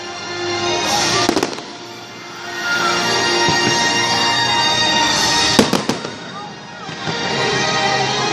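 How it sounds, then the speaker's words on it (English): Fireworks over Disney's Magic Kingdom in Florida, loud and close, with sharp cracking bursts and crackles around the one- and six-second marks over a continuous rumbling roar of explosions. "Hello, fireworks."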